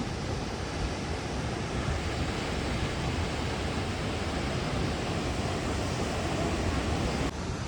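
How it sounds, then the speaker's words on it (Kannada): Loud, constant roar of rushing water at Shivaganga Falls near Sirsi, Uttara Kannada, a thick unbroken wash of noise that holds steady throughout before cutting slightly near the end. "ಹನುಮಂತ ಇಲ್ಲೆಲ್ಲ ನೀರು ತುಂಬ ಮಾರಯ್ಯ"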